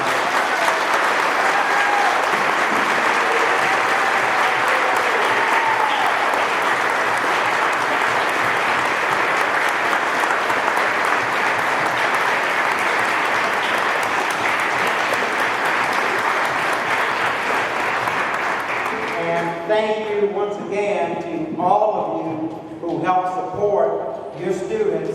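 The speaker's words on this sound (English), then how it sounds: "let's give a huge round of applause to our students tonight." An audience at a school board meeting gives a long, dense round of applause for students. The clapping holds steady for about twenty seconds, then breaks off into talk.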